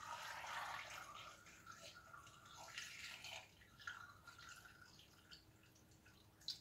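Water pours and splashes steadily into a container up close, with gurgling and a few drips as the flow tapers off.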